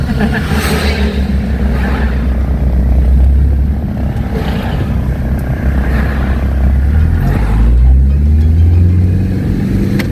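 Motorbikes and cars passing on a road near a farm-to-table market, a loud continuous engine rumble with rising revs as vehicles go by close at hand, no talking.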